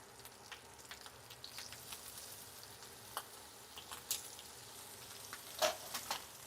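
Seasoned shrimp fry in a hot skillet with a soft, steady sizzle and scattered faint pops, heard alone at low volume.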